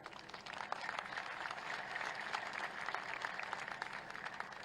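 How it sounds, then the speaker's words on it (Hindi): Steady, dense applause from a large audience, sustained throughout without a break, moderately distant. "आपकी जोरदार तालियों के बीच"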